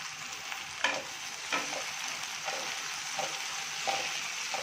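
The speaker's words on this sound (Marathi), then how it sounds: "तर हा कांदा आपण छान आता ब्राऊन करून घेऊया" Onion and tomato fry in a pan as they are browned, a quiet, steady sizzle broken by about five evenly spaced spatula scrapes, with no talking.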